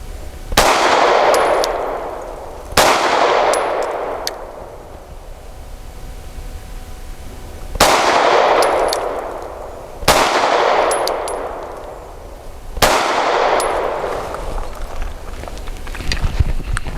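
Five SIG P320 pistol shots fired with the factory grip module, each a sharp report followed by a ringing clang of steel, spaced unevenly a few seconds apart outdoors.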